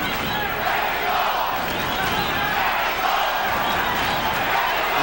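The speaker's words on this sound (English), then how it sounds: "Crowd chanting Mexico, Mexico," The arena crowd at the 1990 Julio Cesar Chavez versus Meldrick Taylor boxing fight roars and chants in a continuous, rhythmic wall of voices, loud and sustained throughout.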